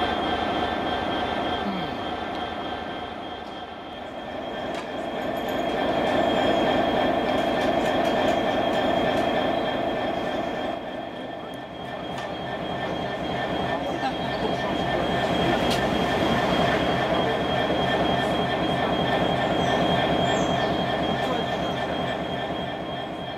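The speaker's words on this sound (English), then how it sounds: "The steam loco up there is going to get to the head of its train" Steam locomotive on the West Somerset Railway moving up to the head of its train, a steady continuous rumble with sustained tonal hiss and faint wheel squeal, swelling and easing as it passes, with no talk.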